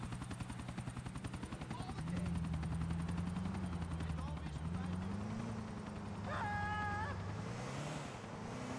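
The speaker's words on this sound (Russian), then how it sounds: "вертолет улетает, последний, куда он двигается?" Helicopter flying away in the video game Grand Theft Auto IV, a continuous rotor drone with shifting pitch, moderately loud and steady, with a brief synthetic tone partway through.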